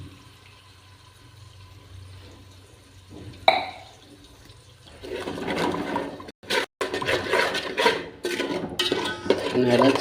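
A mix of spices and water poured from a glass into a pan for paneer gravy, followed by loud sizzling, scraping and stirring with a spoon, with a clink of metal partway through.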